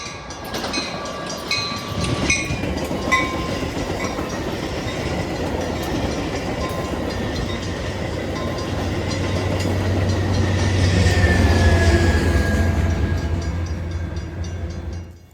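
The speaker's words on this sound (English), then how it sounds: "we were waiting for KCS 4589, the safety starts here locomotive" A freight train led by KCS locomotive 4589, the 'Safety Starts Here' unit, rolls past, its rumble and clickety-clack swelling to a loud, close peak and then easing off, with a faint horn and a wheel squeal, and no talk.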